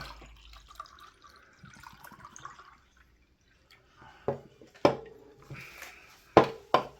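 A drink being poured during a casual conversation about canned refreshers and coffees, heard as faint trickling liquid early on, followed by several sharp clinks and knocks of containers nearby.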